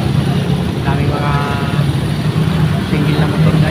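Motorcycles and other traffic rumble past on the road, a loud, steady engine drone close by with no clear breaks.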